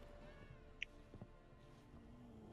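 A cat meows in the video game The Witcher 3, a soft, fairly faint call over quiet game ambience and music.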